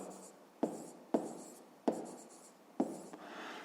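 Pen strokes on paper form an asterisk: four short, sharp scratching marks spaced about half a second apart, close and clear with nothing else around them.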